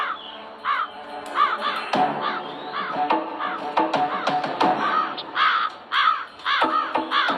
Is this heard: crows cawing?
yes